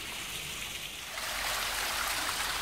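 Creek water running near a landslip, a steady broadband rush and trickle heard up close, growing slightly louder partway through, with no voices.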